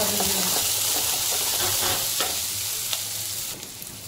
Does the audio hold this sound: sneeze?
no